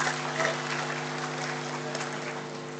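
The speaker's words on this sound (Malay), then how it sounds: "Tidak lengkap kalau hanya sekadar tepukan yang kurang bergemuruh di Dewan Merdeka ini." An audience in Dewan Merdeka hall applauds, with steady clapping that swells slightly at first, then holds at a moderate level, a low hum running beneath.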